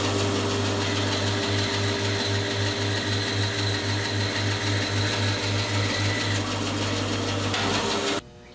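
Band saw cutting a board against an Accu-Wedge stop on the saw table, a steady humming motor with pulsing low drone and whirring blade noise for several seconds before it abruptly cuts off.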